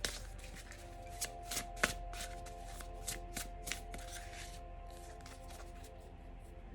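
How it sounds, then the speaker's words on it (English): A deck of oracle cards being shuffled by hand, with a continuous run of quick riffling flicks and soft slaps at close range over a steady low background hum, with no talking. "Maybe I should shuffle."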